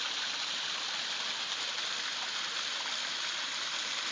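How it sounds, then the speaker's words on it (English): Ozark waterfall swollen by spring snowmelt, a steady dense rushing roar of falling water, unbroken and even throughout, with no voices. "Waterfall is very, very active."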